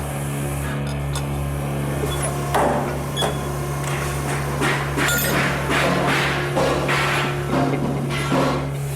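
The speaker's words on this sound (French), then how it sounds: "Avec la nouvelle machine à poinçonner" A new punching machine pierces metal parts for a hearse build in a garage workshop, giving repeated sharp metallic thumps and clanks over a steady machine hum, fairly close and loud.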